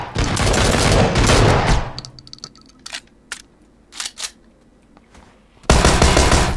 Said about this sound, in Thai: มีปืนโคตรเร็วอ่ะ